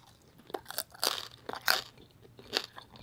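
Crunchy roasted pig head skin being bitten and chewed, dipped in a soy sauce, vinegar, lemon, chili and onion sauce: four or five loud, close, crackly bites and chews spaced unevenly across three seconds, with no talk.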